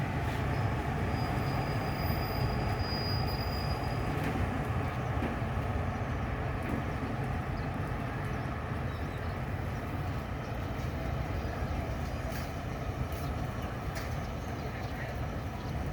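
Train at Uthumphon Phisai railway station in Thailand, a steady rumble of railcars with faint wheel squeal running throughout, with some voices in the background.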